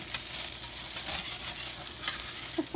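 Broccoli stir-frying in a pan for a leftover beef dish, a dense, even sizzle with faint stirring scrapes, steady and close with no talking.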